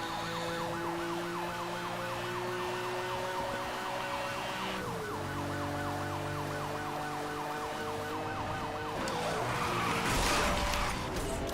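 Police car siren in the racing video game Need for Speed Hot Pursuit, a loud cycling wail that shifts pitch partway through over engine and road noise, with a rougher, noisier passage near the end.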